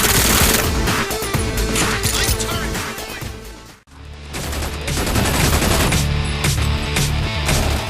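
Rapid automatic gunfire from the vivid cartoon-styled shooter Brink, dense bursts layered with game music and effects, briefly dropping out midway before resuming loud.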